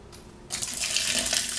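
Water pouring into a bucket of grout mix, a short splashing gush that starts abruptly and runs steadily for about a second, close by.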